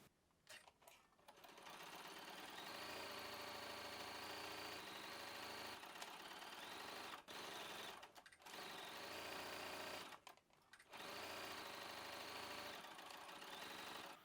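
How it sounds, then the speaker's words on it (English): Conventional sewing machine stitching a knit waistband seam, its steady motor whir running in long continuous bursts broken by a few brief pauses, close and fairly loud with no talking. "I'm going to stitch with a 3/8 of an inch seam allowance. I'm going to use my conventional machine"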